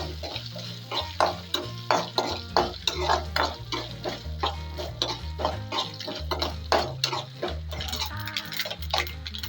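Coconut pieces fry in ghee for ada pradhaman while a spoon stirs the pan in a steady rhythm, each scrape and clink standing out over a soft sizzle.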